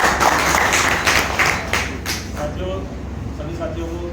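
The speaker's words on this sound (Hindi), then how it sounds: "सर के लिए जोरदार ताली।" Applause for a speaker at a company's first anniversary celebration in a cafe, a burst of clapping that starts loud and fades over a few seconds, with some background voices.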